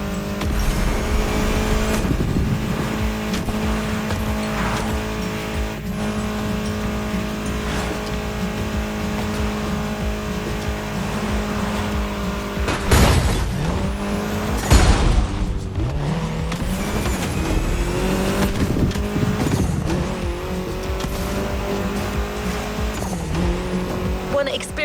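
Muscle cars with V8 engines and rear-wheel drive race in The Crew Motorfest, their loud continuous engine roar running throughout with bursts of revving and tire squeal in the middle, under steady narration.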